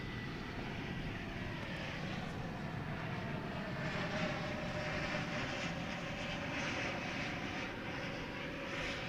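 A Frontier airliner at DFW Airport at night produces a continuous, fairly distant jet-engine roar with broad whooshing noise that swells slightly and stays steady, fairly faint overall.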